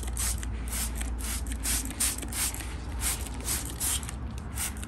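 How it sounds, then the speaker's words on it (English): A fairly heavy spray of hydrogen peroxide onto an orchid, misting into the gaps between the leaves; a close, steady hiss of repeated spray bursts in quick rhythm throughout. "We're giving it a fairly good spray, allowing it to run down into the gaps between the leaves."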